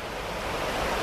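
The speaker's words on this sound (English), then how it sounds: "Here's the river." A river rushing beside a campsite, a steady broadband wash of flowing water heard close and continuous, with no voices over it.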